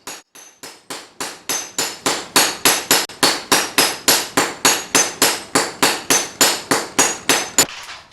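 Steady, rapid hammer blows ring out on a sword blade at a manual forge by Inle Lake, Burma, about three strikes per second, loud and close, with no talk over them.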